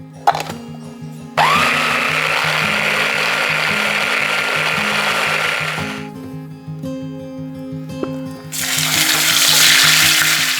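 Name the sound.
meat grinder grinding meat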